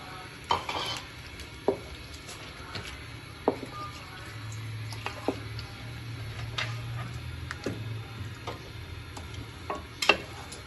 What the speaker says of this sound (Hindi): अब इस मौके के ऊपर हमने वो क्रीम और दूध मिक्स किया हुआ था, ये डाल देते हैं, अच्छी तरह इसको मिक्स कर देते हैं